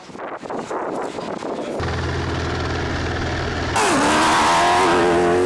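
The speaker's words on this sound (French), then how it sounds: "Au volant de sa vrombissante Toyota, Nasser Al-Attiyah" A Toyota rally car racing on the opening stage of the Silk Way Rally 2018 roars loudly and close, its engine note climbing and then surging into a sharper, higher rev.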